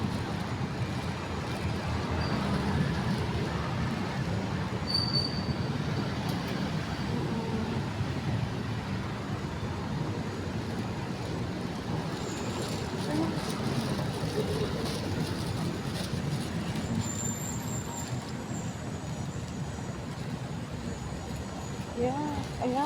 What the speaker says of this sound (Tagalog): Ayan, dami po na sasakyan.